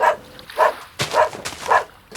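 A dog barking in the Minecraft video game: four short, clear barks spaced about half a second apart, near and fairly loud with nothing else behind them.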